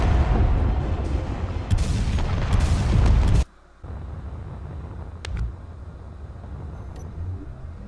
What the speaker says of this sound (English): Yep, they're shooting at each other.